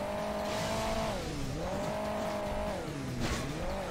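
Motorbike engine from the video game Hill Climb Racing 2, a steady electronic drone that rises and dips in pitch as the throttle changes, continuous and fairly loud with no talk.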